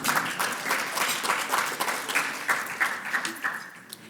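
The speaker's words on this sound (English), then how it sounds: "let us please give Government of Australia a round of applause" At the Global Health Security Conference 2024, the conference audience applauds in a sustained, fairly distant wash of many hands, with faint voices mixed in.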